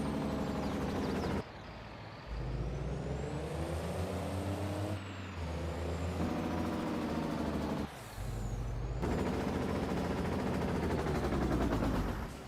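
A heavy truck engine in Farming Simulator 22 drones loudly and steadily, its pitch shifting with gear changes, with short breaks and hisses of air between stretches of driving.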